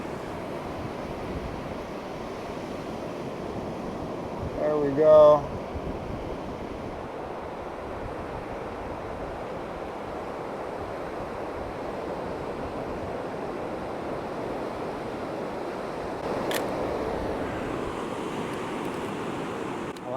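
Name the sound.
ocean waves breaking on a beach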